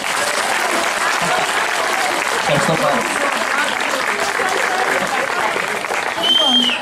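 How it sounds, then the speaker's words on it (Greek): Loud, sustained applause from an audience at a 1991 class reunion of a Lyceum in Almyros, a thick wash of many hands that runs throughout, with a voice briefly speaking over it. "Νομίζω πρέπει να του δώσουμε ένα μεγάλο χειροκρότημα."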